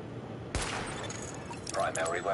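A single loud weapon shot cracks at a shooting range in The Division, followed by a short electronic tone, with a voice murmuring faintly underneath.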